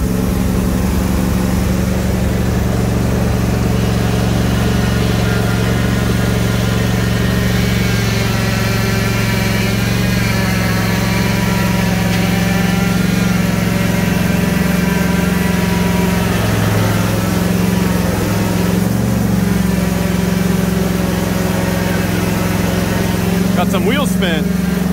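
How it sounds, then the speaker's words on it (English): A John Deere S130 lawn tractor engine runs steadily at raised idle while straining to pull a Honda Prelude of about 3,200 pounds, a loud continuous drone throughout with slight variations in pitch. "Let's see if the John Deere S130 has enough pulling power to move this Honda Prelude"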